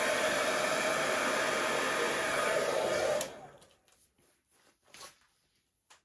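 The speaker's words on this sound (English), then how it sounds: "I'm just going to blow that over with the hairdryer" A hairdryer blows steadily over wet acrylic paint on a Dutch-pour canvas, a loud broadband rush for about three seconds before it cuts off, leaving faint quiet handling sounds.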